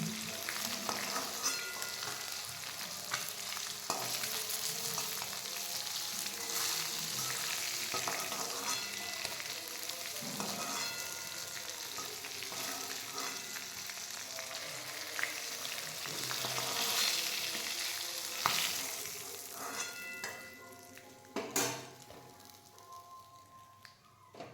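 Singhi fish fry in oil in a pan, giving a long, dense crackling sizzle up close, with occasional clinks and stirring knocks near the end.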